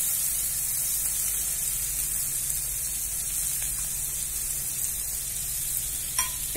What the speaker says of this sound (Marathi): हा कांदा आपण छान परतून घेऊया।